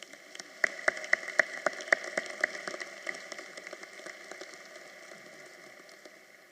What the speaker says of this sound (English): So let's give them a really hearty round of applause to all of these university leaders.